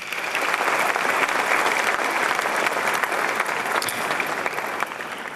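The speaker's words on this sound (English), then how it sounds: "Shall we do a big round of applause for them?" An audience at an honorific lecture in Ghana applauds with dense, sustained clapping. The applause stays loud and even from start to finish with no pauses.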